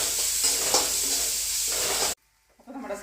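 Onions with biryani masala fry and get stirred in a pan, a steady close sizzle with scraping strokes that cuts off abruptly, followed by quieter faint clatter.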